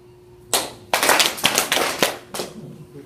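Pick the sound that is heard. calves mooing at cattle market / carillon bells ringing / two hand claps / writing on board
two hand claps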